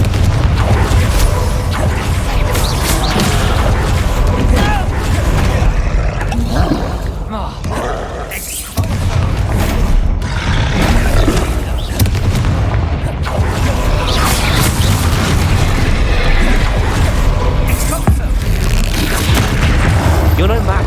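Booming spell blasts from Confringo and Bombarda in the Hogwarts Legacy video game, loud repeated explosions packed densely over twenty seconds amid game combat noise, with character voices shouting over them.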